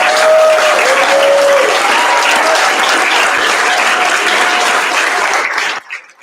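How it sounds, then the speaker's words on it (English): Loud, dense applause from an awards ceremony audience honoring a volunteer, a steady roar of clapping held for several seconds before cutting off abruptly. "She deserves all that applause and more."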